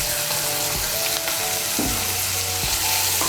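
Ginger paste fries with tomato in hot oil, making a loud, steady sizzle that fills the whole stretch, broken by a few scraping strokes as the mixture is stirred.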